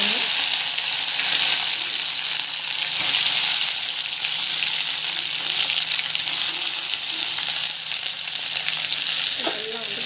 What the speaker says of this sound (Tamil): இதெல்லாம் வந்து வதக்கிக்கலாம்.